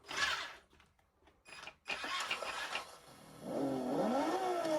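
A GT Power RC sound module gives a rising, revving engine note on a throttle blip, with harmonics sweeping up and down near the end after some brief clicks and handling noise.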